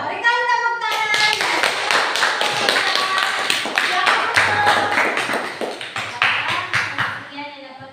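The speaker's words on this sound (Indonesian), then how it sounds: "Kita berikan tepuk tangan." A classroom group applauds after a student presentation, with a dense run of clapping lasting several seconds and voices speaking just before and after it.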